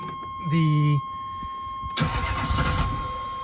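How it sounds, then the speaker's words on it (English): Ford 6.5L diesel truck engine with a high-torque starter. A short cranking whine is followed by a rough burst as the engine catches and runs, with a steady electrical tone in the background. "It starts way better now. It cranks way better because this actually has a high torque starter in it."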